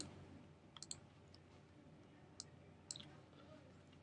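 Computer mouse clicks while working in Adobe Flash, heard as a few small, sharp, quiet clicks in short pairs. They come early and again around the middle of a quiet room-tone background.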